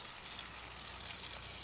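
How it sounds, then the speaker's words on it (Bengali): Potatoes coloured with turmeric and red chilli powder fry in oil in a pan for Bengali mutton kosha, a steady soft hiss and sizzle with no voices. "আলুটাকে বেশ লাল লাল করে ভেজে নিতে হবে"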